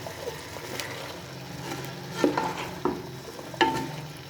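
Masala for Shimla mirch gosht (capsicum with mutton) is mixed and fried in a pan, giving a low steady sizzle broken by a few sharp spoon scrapes and knocks, close up and with no talk.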